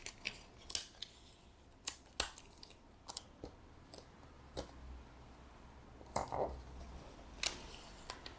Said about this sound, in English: Meantime, let me put some tape down.